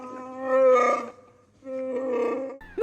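Chewbacca-style roar sound effect, two long warbling, growling wookiee howls, loud and close, separated by a short pause, with a quick sound at the very end.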